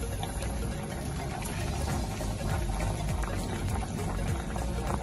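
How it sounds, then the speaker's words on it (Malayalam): Grapes simmer in water in a pot on a stove, a constant rolling bubble and gurgle that stays close and fairly loud throughout, with no talking. "ഈ ഗ്രേപ്സ് നല്ല രീതിയിൽ തിളയ്ക്കുന്നുണ്ട്."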